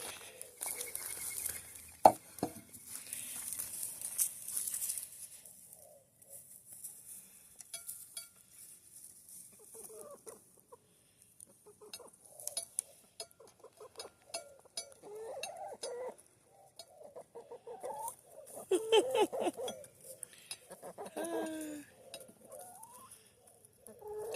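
Backyard chickens peck and scratch at pieces of cut acorn squash, giving soft irregular taps and rustles along with occasional clucks and murmurs from the hens, close by in a quiet outdoor setting.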